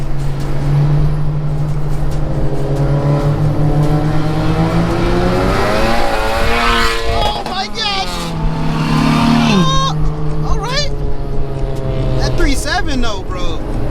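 A car with a 3.7 engine revs during a late-night downtown cruise, the engine pitch climbing and sweeping through gears, loud and close, with people talking over it throughout.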